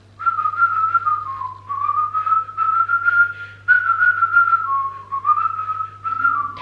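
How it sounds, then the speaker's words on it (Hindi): A person whistles a song tune, a clear continuous melody of sliding and stepped notes with brief gaps between phrases, close and fairly loud, with no talking. "Like I can whistle on any song you can say."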